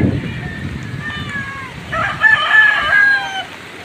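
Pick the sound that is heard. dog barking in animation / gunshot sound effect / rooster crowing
rooster crowing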